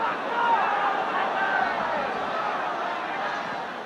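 Steady murmuring hubbub from a football crowd at a Spurs versus West Ham United match, reacting after a missed foul call, with dense overlapping voices and no single sharp cheer.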